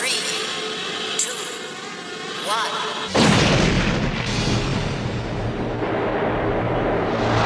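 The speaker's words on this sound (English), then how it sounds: "The ship will detonate in T-minus 5, 4," A ship detonates in the film DeepStar Six. A low ambient drone gives way about three seconds in to a sudden, loud, deep blast that rolls on as a sustained rumbling roar.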